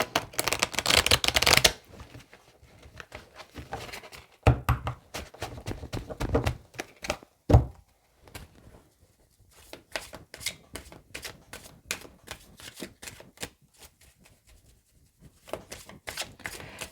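Oracle cards being shuffled by hand, a loud burst of riffling followed by repeated soft slaps and quick flutters of cards being cut and tapped, close and with no talk.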